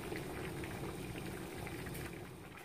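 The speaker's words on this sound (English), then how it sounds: "my noodles have been boiling for around 9 minutes" Korean glass noodles boil in a pot with a dense, steady bubbling and roiling of water, moderately quiet and continuous, with no voices.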